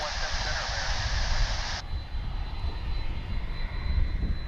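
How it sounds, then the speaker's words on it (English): An American Airlines Boeing 737-800 jet at Dallas/Fort Worth International Airport gives a steady, loud, broad engine roar that drops in brightness partway through and then continues as a lower rumble with a faint high whine. "That is American Flight 1205. It's on its way to Austin, Texas, that 737-800."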